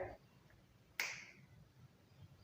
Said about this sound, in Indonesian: sekali jentikan jari, papan bisa bersih